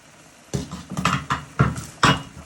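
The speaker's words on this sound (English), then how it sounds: "So you want to give that a good stir so your onions and garlic can go nice and soft" Onion, garlic and prawns are stirred in a pan, with five or six rhythmic scraping clatters of utensil against metal, close and fairly loud, with no talking.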